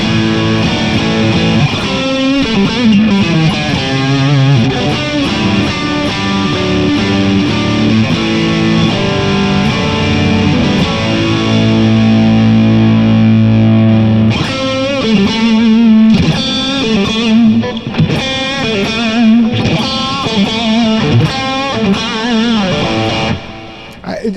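An electric guitar plays chords and riffs through a warm, round neck single-coil pickup, with lightly overdriven tone and sustained notes between choppy strums.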